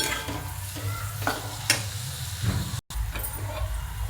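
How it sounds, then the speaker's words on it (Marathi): Hot oil sizzles steadily as onion greens hit the tempering oil in the pan, with short scraping stirs and clinks of a spoon cutting through the hiss. "दीड चमचा छोटा कांद्याची पात पण फोडणीच टाकायची"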